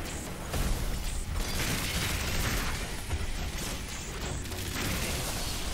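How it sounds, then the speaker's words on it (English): Cross-shaped explosion attack from a boss in Metroid Dread, heard as a dense, continuous rumble of blasts and bursts at steady loudness across the whole stretch, with no talk. "So it does the cross explosion thing."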